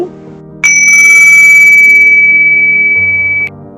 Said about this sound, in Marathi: मी एकदा घंटा वाजवते